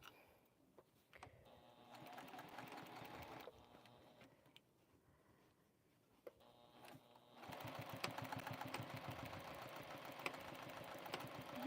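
A Juki sewing machine stitching in bursts, a fast steady mechanical whir and tick that stops and restarts, growing louder and busier in the second half, with brief pauses between runs.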